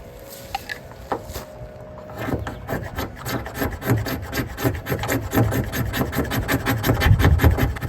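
A knife spine or bearing-block edge rasps along wood, scraping up bulk shavings and feathers for bow drill tinder. The strokes build into a steady, loud, close rhythm of repeated scrapes with no talk.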